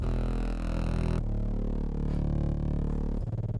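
Sustained synth bass in an electronic track, its filter cutoff sweeping open so the tone brightens, thick and loud, with a sharp change partway through and a pulsing rhythm returning near the end, no voices.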